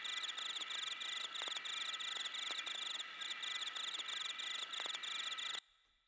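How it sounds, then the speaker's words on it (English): Crickets chirp in a dense, rapid pulsing trill used as a horror atmosphere sample, steady and close, cutting off abruptly into near silence at the end. "Originally, this sample is crickets, I guess,"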